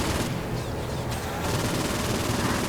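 Sustained weapon fire in Saints Row: Gat Out of Hell, a dense rapid burst of loud close shots running the whole moment without pause.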